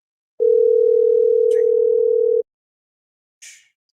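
A steady single-pitched telephone ring tone sounds loud and clear for about two seconds, then stops, followed by a brief faint noise.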